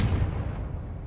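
A Confringo blasting spell in Hogwarts Legacy ends in a heavy, booming explosion, its low rumbling body decaying over about a second.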